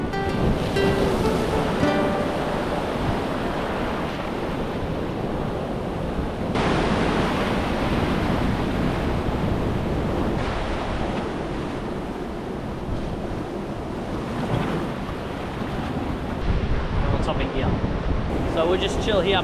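Steady roar of ocean surf spurting through holes in rock, with broad rushing water noise and surges, heavy wind buffeting the microphone throughout.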